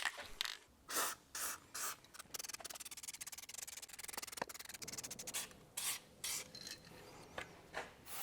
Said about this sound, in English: I'm using Dinitrol transparent beige film, which sprays on liquid and then cures to a hard finish.